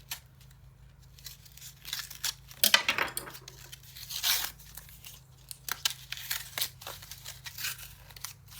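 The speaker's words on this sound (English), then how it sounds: "Tear this open." Package of magnets torn open by hand, a few close, crisp ripping and crinkling bursts of plastic separated by quiet pauses.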